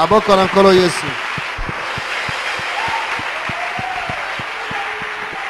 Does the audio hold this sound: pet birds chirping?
no